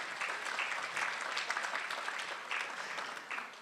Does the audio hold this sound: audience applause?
yes